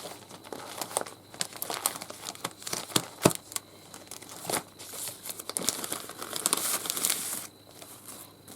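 Pieces of coffee-dyed paper doilies are handled and shuffled close by, giving a steady run of crisp crinkling and rustling with a few sharper crackles, no voices.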